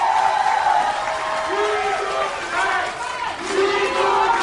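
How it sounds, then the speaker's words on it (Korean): A crowd at a Korean Democratic Party convention eve rally claps and cheers as party leader candidate Lee Jong-geol is introduced: dense, steady applause mixed with shouted calls and whoops throughout. "큰 박수 부탁드리겠습니다."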